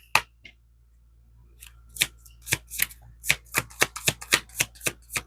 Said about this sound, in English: That was a weird shuffle. Let me get a better shuffle.